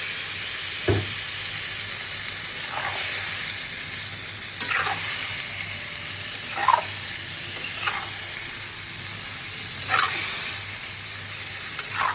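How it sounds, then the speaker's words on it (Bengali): Chicken pieces and potatoes sizzle and fry in a pan of cooked-down spiced masala, a steady loud crackle with stirring scrapes returning every second or two. "এবার আমি মুরগির মাংস আর আলুটা দিয়ে দেবো।"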